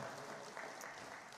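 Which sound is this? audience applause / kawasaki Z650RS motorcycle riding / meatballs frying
audience applause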